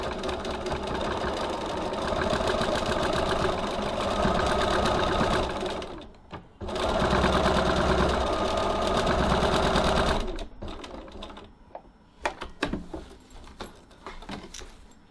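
Home sewing machine stitching thread through fabric while basting strap tabs, a steady rapid mechanical whir in two long runs separated by a brief pause, then stopping with scattered clicks and handling noises.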